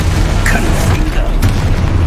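A Confringo spell blast in Hogwarts Legacy sounds as a loud, close fiery burst with a sharp crackling pop. It sits over a continuous rumbling battle din with further bursts, and a voice is heard under it.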